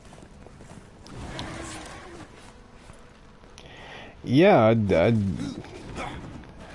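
Horse hooves patter in Darksiders II, faint and rhythmic beneath game noise, then a loud voiced sound and a person briefly talking over it.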